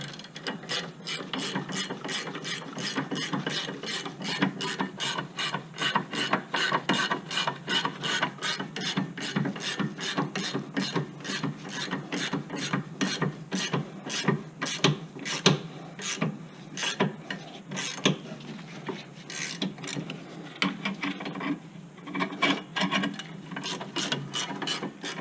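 Ratchet wrench tightening a bolt during a rear brake job on a Nissan Rogue: a long run of rapid, evenly spaced clicks, close and steady, with no talking.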